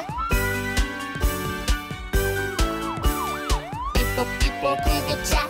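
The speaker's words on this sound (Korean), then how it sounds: "위용 위용 경찰차" A wailing police-style siren rises and falls over bouncy, rhythmic music with a steady beat.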